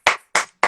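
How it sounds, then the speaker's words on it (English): Three sharp hand claps ring out alone in an even rhythm, loud and close with brief decay between them. "I be clapping every day"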